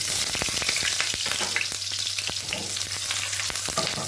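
Garlic frying in a pan for a home-cooked meal, a steady close sizzle with dense crackling pops and sharp spatters throughout, no talking.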